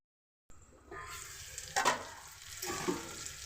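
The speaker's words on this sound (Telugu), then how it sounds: "బాగా ఫ్రై అవనిద్దామండి" Tomato and cucumber pieces frying in a pan for a curry, a soft steady sizzle with a couple of brief stirring scrapes, fairly quiet and close.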